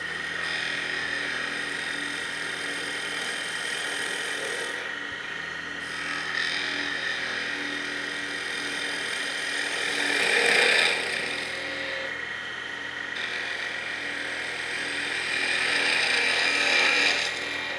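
Wood spindle spinning on a lathe at higher speed as a skew chisel cuts, a continuous whirring hum with rising and falling scraping swells as the blade bites, no voices.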